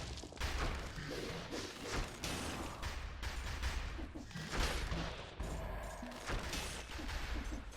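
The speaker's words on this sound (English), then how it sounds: "so they come chasing me in a safe place, and then I can just shoot them from long range" Ranged attacks against enemies in the Dead Cells video game, dense rapid thuds and booming impacts with mechanical clatter, continuous and loud throughout with no talk.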